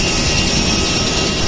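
Jet airliner engine roaring steadily at an airport after landing, a loud, constant broadband whine and rumble from close by, with no voices.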